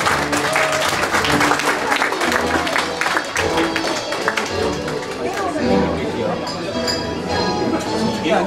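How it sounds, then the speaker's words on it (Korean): Audience applause fills a banquet hall during a business association's annual general meeting and year-end evening, steady clapping with a clink or two and chatter running underneath throughout. "여러분 박수 한번 부탁드리겠습니다."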